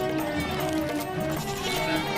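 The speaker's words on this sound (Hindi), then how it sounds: "सारी बकरियां चारा खा रही हैं, लेकिन सिर्फ वही है जो आपको देखे जा रही है, और कैसे मिमिया रही है" A goat bleats among a herd eating fodder in an animated Hindi story, giving a short wavering cry that is loud and close, with little else heard.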